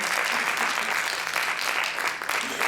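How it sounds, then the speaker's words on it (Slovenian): An audience at a judged performance event applauds warmly for the jury, dense continuous clapping at an even, fairly loud level with no voices over it. "En lep aplavz, prosim."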